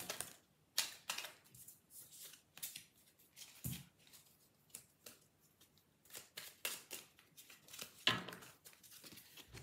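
Oracle cards being shuffled by hand, a run of soft papery riffles and slaps in irregular bursts, close and fairly quiet with no talking.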